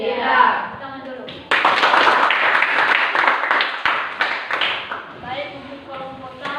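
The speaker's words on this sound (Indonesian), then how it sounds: "Tepuk tangan dulu." Students in a classroom break into a burst of hand clapping for a few seconds after group presentations. A voice speaks just before, and talking resumes as the applause fades.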